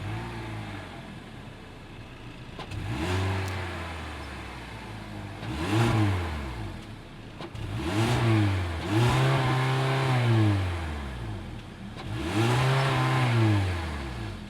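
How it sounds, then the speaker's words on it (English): A naturally aspirated 2-liter four-cylinder engine in a 2026 Hyundai Elantra SEL Sport is started and revved, giving several rising and falling rev sweeps at close range with no talking. "that was the sound of the naturally aspirated 2-liter 4-cylinder engine sold by Hyundai for the"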